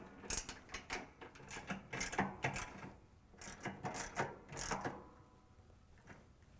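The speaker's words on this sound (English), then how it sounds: "Tighten all bolts with a socket wrench." Socket wrench ratcheting as bolts are tightened on a Whirlpool/KitchenAid/Maytag drain pump motor: quick bursts of close, rapid clicking strokes in several runs, then quieter.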